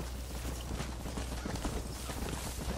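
Galloping horse in the Red Dead Redemption video game, a steady rapid clip-clop of hooves running continuously at close range under a dense layer of game background noise.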